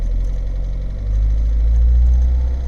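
A Ford Fiesta 1.4 TDCi diesel engine with a faulty rev counter idles with a deep, steady rumble, then rises in a low revving surge partway through, heard up close.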